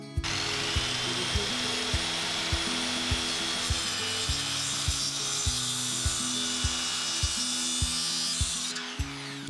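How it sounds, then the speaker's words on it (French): A wooden plank is hand-sawn to 80 cm length, keeping its width. Steady back-and-forth saw strokes rasp through the wood in an even, regular rhythm, close and clear with no talking. "on va couper une planche de 80 cm de longueur tout en conservant la largeur"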